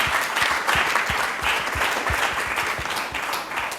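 Dense, steady audience applause with rapid overlapping claps, praising the Lord after soft gospel music at a Christian worship broadcast, continuous and fairly close with no talk over it.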